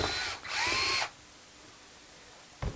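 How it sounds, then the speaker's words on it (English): A close electric drill removing screws from a Midi keyboard whirs in two short bursts, speeding up and slowing, followed by quiet and a brief final buzz. "So I got the electric drill because there's so many of them."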